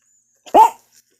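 A small dog gives one sharp, close bark with a faint short yelp after it, reacting to neighbors making noise outside, and the rest is quiet.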